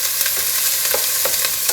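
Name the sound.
onions and peppers frying and being stirred in a pan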